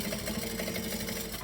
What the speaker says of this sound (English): I'm just going to stitch on the outside edge